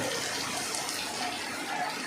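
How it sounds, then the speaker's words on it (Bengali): Dense, steady rushing of heavy rain pouring down at night in Tanore, loud and continuous with no breaks; no thunder stands out in this short stretch. "তানোরে ব্যাপক বৃষ্টি হচ্ছে ও বজ্রপাত হচ্ছে"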